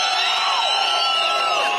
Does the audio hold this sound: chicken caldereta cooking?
no